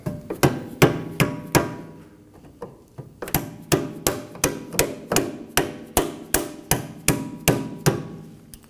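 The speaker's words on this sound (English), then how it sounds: "Once it's aligned, tap it in with a rubber mallet." A rubber mallet taps a bolt into a rear lower control arm on a 2018-2024 Toyota Camry: a steady series of about twenty sharp, close knocks at a fairly even rhythm, with a brief pause early on and no talking.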